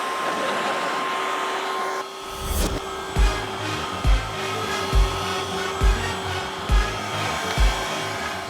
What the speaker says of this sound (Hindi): लौंडो वैक्यूम ऑन करो।